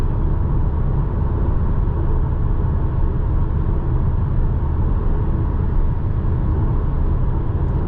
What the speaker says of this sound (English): So I can hear some tire noise, a little bit of wind.